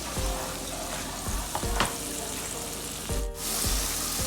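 Masala frying with beaten yogurt for a chatpata onion and bitter gourd dish, a steady close sizzle broken by several soft stirring scrapes and one brief clatter.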